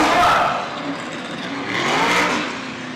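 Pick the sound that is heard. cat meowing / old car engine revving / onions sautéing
old car engine revving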